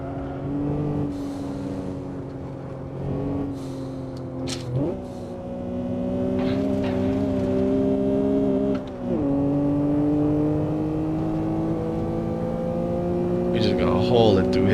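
A street car's engine in the Shutoku Revival Project racing game, a loud sustained drone climbing in pitch through gear changes, with a few short shifts.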